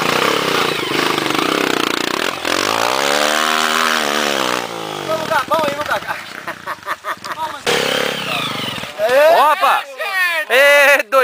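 Dirt bike engine revving hard on a steep trail climb, rising and falling in sharp repeated bursts close by, with people talking and shouting throughout.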